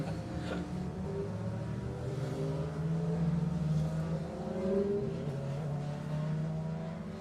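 Formula 2 racing sidecar outfits circle the track at Kirkistown, a steady droning engine note with shifting pitch running throughout, fairly close and continuous, with no voices.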